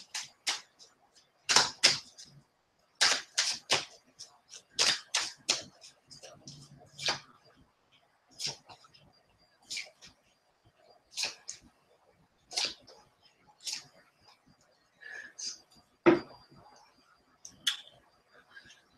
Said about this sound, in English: It's my trusty African deck. So yeah, we are shuffling for Libra.